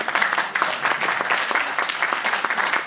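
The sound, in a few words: audience applause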